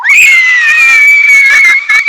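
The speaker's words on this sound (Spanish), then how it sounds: "Un terrible grito sonó del otro lado." A loud, sustained scream in a horror story, one long piercing shriek holding steady for about two seconds with slight wavering, alone with no talk.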